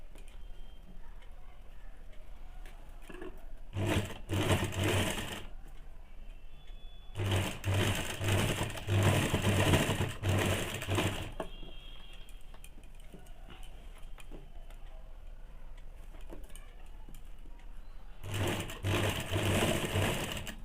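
A sewing machine stitches piping onto a two-piece Bombay cut blouse in three separate bursts of rapid mechanical whirring, close and loud, with quieter gaps of room noise and faint handling between them.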